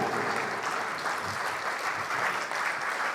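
Steady, dense applause from the audience at a poetry gathering honouring a new poet, many hands clapping continuously at even loudness throughout.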